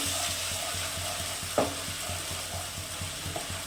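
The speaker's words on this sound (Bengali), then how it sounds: "একটু ভাজা ভাজা করব খুব ভাজা করতে হবে না" Ginger-garlic-onion paste for chicken biryani fries in a pan with a steady, close sizzle, broken now and then by light scraping from stirring, and no talking.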